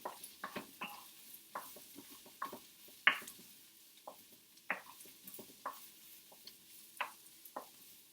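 Ingredients for an omelette scramble stirred around in a pan: soft scraping strokes and light clicks at an irregular pace, close but quiet, with a faint hiss underneath.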